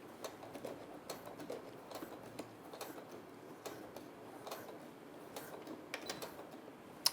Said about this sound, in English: we're going to sew diagonally again, creating almost a cross or an X.